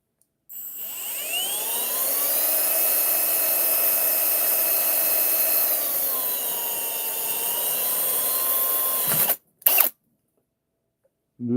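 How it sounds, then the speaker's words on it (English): A power drill boring holes in an LS engine part, a loud close whine that holds steady for several seconds and dips in pitch as it bites, then stops with a couple of short bursts. "we got 2 holes. Let's drill 2 more."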